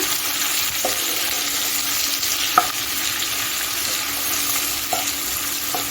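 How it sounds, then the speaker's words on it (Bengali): Sliced onions frying in a pan on medium gas for chire polao, a steady dense sizzle throughout with a few soft scrapes of stirring, close and alone without talk. "পেঁয়াজটাকে একটু ভেজে নিচ্ছি"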